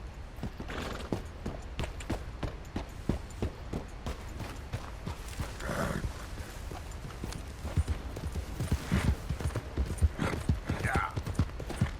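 Horse hooves clip-clop at a steady walking pace in the video game Red Dead Redemption 2, close and rhythmic throughout, while a person talks over them.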